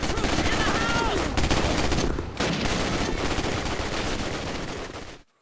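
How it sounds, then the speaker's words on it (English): Dense, continuous automatic gunfire from deployable machine guns such as the M1919 Browning .30 caliber and the Mauser MG34 in the original Call of Duty. It stays loud and close with a brief dip midway, then cuts off abruptly at the end. "players were able to carry and reposition deployable machine guns, like the M1919 Browning 30 caliber machine gun and the Mauser MG34 machine gun"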